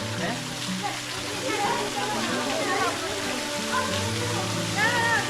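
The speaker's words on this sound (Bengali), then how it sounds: "গিরি থেকে নেমে আসছে এই ধারা" A hillside stream, the Dharagiri falls near Ghatshila, runs down from the hill in winter with a steady rushing wash of water, close and continuous, with a voice talking over it.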